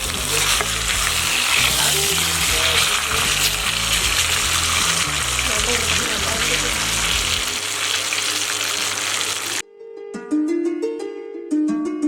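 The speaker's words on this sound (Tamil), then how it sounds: "ஃபிஷ்ஷை வந்து நம்ம சிம்மில் தான் ஃப்ரை பண்ணணும்." Fish coated in masala fries in a pan on a low flame, a dense steady sizzle with stirring scrapes that cuts off abruptly, giving way to a short musical jingle.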